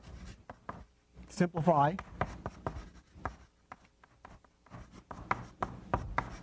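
Chalk or marker scratches across a board during a lecture, a series of short, close strokes and taps in an uneven rhythm, interleaved with the lecturer's speech.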